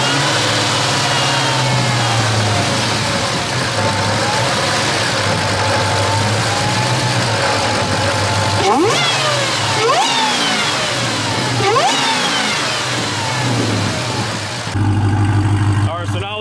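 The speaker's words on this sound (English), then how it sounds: "now we'll do a quick exhaust rev, show you guys how the exhaust sounds" A supercharged Redeye engine in a Chrysler 300 rumbles steadily at idle, then briefly revs up a couple of times with rising exhaust roars before settling back down.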